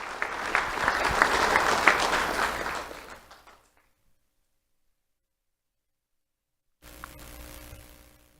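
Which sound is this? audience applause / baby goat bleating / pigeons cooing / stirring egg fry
audience applause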